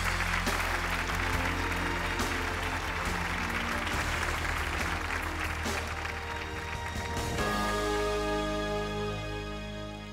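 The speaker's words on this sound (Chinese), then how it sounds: "掌声欢迎。" A studio audience on a Chinese television show applauds, loud dense clapping sustained for several seconds, with music joining and continuing as the applause tapers.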